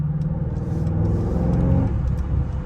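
A Mercedes GLC SUV drives by with a low, steady rumbling engine that swells slightly as it passes, heard close and fairly loud with no talk over it.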